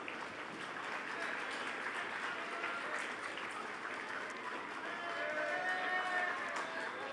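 Audience applause at an IIM Kozhikode convocation ceremony forms a soft, distant and continuous patter of many hands clapping that stays steady throughout.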